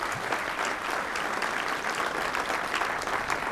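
An audience at a public meeting claps in a dense, sustained round of applause, steady and fairly loud throughout with no clear voices over it.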